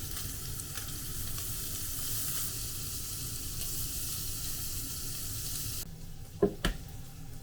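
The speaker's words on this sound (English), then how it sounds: "I'm going to cook bacon made from sangen pork" Bacon made from Sangen pork sizzles and spits steadily in a pan, a close, constant frying crackle that drops away near the end, followed by a couple of sharp pan knocks.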